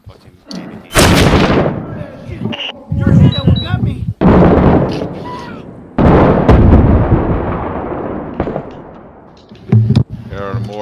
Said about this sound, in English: Here are the mortars.